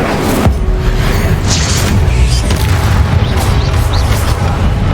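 The Incendio fire spell in Hogwarts Legacy goes off as a loud, close burst of roaring, whooshing flame. Dense rumbling combat noise continues throughout.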